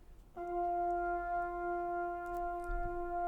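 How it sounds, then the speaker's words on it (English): A single sustained flugelhorn note enters after a brief quiet moment and holds steady and clear, feeding a freeze pedal so the tone stays on without fading. "So what you hear is the flugelhorn."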